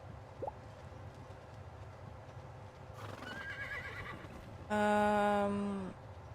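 A horse in the video game Starsand Island whinnies loudly for about a second, a bright wavering neigh over a steady low rumble, with a rougher snort-like call just before it.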